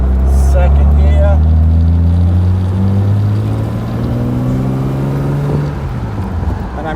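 A Jaguar E-Type sports car engine revs up strongly and loud nearby, the pitch climbing, then dropping and climbing again as it shifts from first to second gear at around 3,000 rpm.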